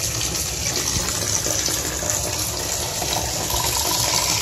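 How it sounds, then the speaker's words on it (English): Powerful flood water rushes in a loud, continuous, roaring wash that stays steady throughout, with no voices. "this flood is more powerful than I thought"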